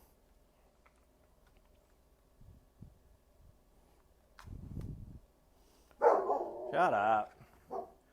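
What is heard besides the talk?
dogs barking at a UPS delivery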